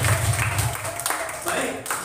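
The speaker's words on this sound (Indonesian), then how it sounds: "tepuk tangan buat kita semua" A primary-school class joins in a brief burst of clapping, short and close, overlapping with a voice talking.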